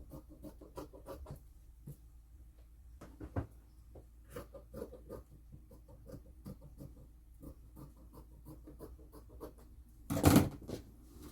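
Scissors cut around paper pattern pieces for a memory bear, making close, repeated soft crunching snips in an uneven rhythm, with a louder scraping burst near the end.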